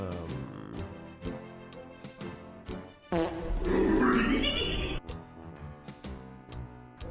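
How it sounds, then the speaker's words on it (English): A fart sound effect triggered by a livestream sound command, a loud raspy burst lasting about two seconds, set among music and clicks while a person talks. "Came to stream, but only farted."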